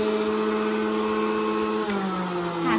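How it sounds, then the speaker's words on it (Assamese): A mixer grinder whirs steadily as it grinds roasted rice for sandah, a close, continuous motor drone with a slight pitch shift near the end. "শ্বৰ্টকাট মানে মিক্সাৰ মেচিনত বনোৱা হৈছে"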